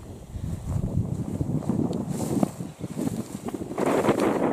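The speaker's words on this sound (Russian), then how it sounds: "Днем обычно у нас ветер" Wind blows steadily across an open rural pasture where cows are grazing, a continuous low rushing with buffeting gusts on the microphone that swells again near the end, with no voices.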